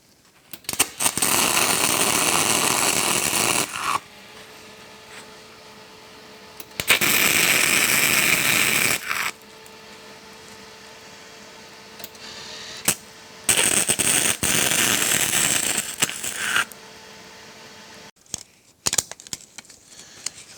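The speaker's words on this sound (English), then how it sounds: "and we'll get the welder fired up" An electric welder works steel for a blacksmith guillotine in three long bursts of loud crackling buzz, with a quieter low hum and scattered clicks between them, close by and without speech.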